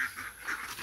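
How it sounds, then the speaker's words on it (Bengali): A flock of ducks in a rural Bangladesh village gives quick, fairly loud repeated quacks and honks in a brief burst. "একদল হাঁস"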